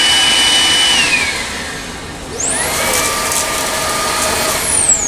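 A Makita cordless stick vacuum cleaner runs close and loud with a steady motor whine; its pitch sinks, then jumps back up midway as the mode changes, and it keeps running to the end.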